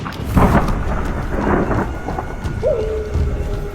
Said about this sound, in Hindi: उन दोनों को यह आवाज सुनाई दी। तेज आंधी की हवाओं में उनकी आंखें बहुत मुश्किल से खुल रही थी।